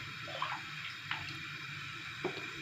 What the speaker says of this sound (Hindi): 2 नहीं बल्कि 3 गिलास पानी ऐड करेंगे